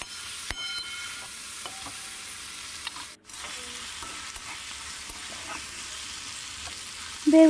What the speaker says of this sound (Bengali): বেগুন আর টমেটো খুব ভালো করে ভাজা ভাজা করে নিয়েছি